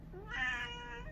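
A pet cat whining and meowing at close range, one drawn-out rising and falling meow that is fairly soft, with no talk.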